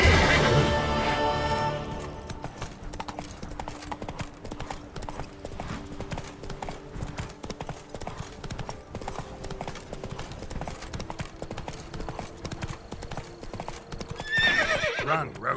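Roach, a horse in The Witcher 3, gallops in quick continuous hoofbeats that stay loud and steady. A whinny rings out at the start and the hoofbeats surge again near the end.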